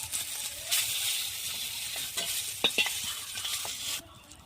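Fried bitter gourd is lifted out of a pan of hot oil, with a steady bright sizzle under close scraping and a few clicks of a spatula against the pan, the sizzle dropping away at the end.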